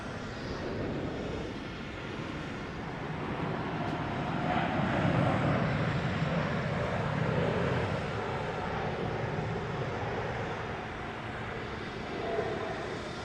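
Airbus A321neo jet airliner arriving at Boston Logan International Airport from Seattle, a steady engine roar swelling slightly and holding from a moderate distance, with no talking.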